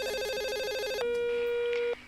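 A telephone rings with a bright, warbling electronic trill, loud and close, followed by a sustained steady tone before cutting off; no voices.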